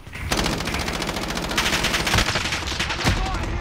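Rapid automatic gunfire in the Call of Duty Warzone video game: dense bursts of shots crackle loudly and almost continuously, with a few heavier individual reports near the end.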